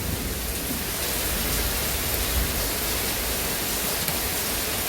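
Steady heavy rain during an Indiana thunderstorm, a dense even hiss pouring down without pause and no distinct thunder clap standing out.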